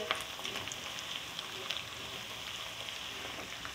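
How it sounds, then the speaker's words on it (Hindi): Spices for shami kabab roast in a pan with a faint, even sizzle and occasional light crackles, heard alone without talk. "और ये तमाम मसाले अच्छी तरह भुन चुके हुए"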